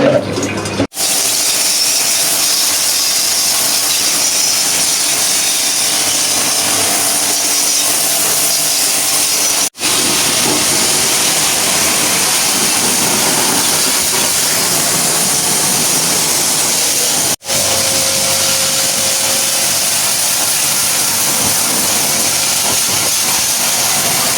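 A pressure washer sprays continuously while cleaning an air conditioner, a loud close broadband hiss of water and motor that cuts out briefly three times, with no talk.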